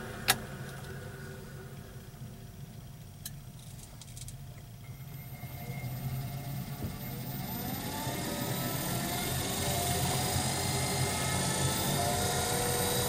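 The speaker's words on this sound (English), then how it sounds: "The lathe is a variable speed, which is nice." A variable speed wood lathe spins a light red cedar bowl blank at around 700 to 800 RPM, a steady whirring drone; a gouge begins cutting partway through, adding a rising scraping hiss, with a sharp click near the start.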